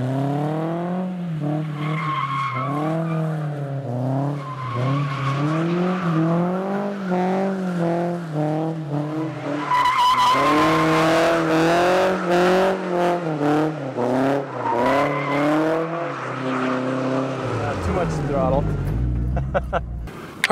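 A car drifts through repeated slides, its engine revving hard in rising and falling surges under long, loud tire squeals, the screech peaking midway before a low rumble near the end.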